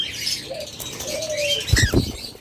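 Pet lovebirds or budgerigars, including albino red-eye birds, flap their wings in a brief, fluttering burst, with soft chirps close by.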